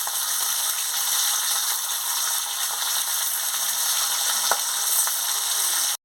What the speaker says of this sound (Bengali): তেল গরম হয়ে গেছে, আমি মাছগুলো দিয়ে দিচ্ছি